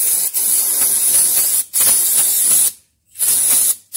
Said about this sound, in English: brake cleaner, carb spray, or in this case, starting plug cleaner